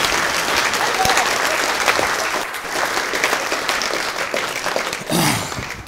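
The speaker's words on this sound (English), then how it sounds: "I think that's worth a round of applause, please." A crowd at a fishing media awards event applauds steadily and loudly, a dense wash of clapping that lasts throughout, with faint voices mixed in.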